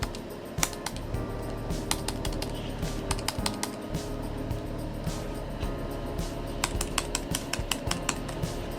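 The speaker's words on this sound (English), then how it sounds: "using the enter and 0 keys on the keyboard like this" Rapid presses of the Enter and 0 keys on a computer keyboard click in irregular bursts over a steady low hum, fairly close and moderately loud.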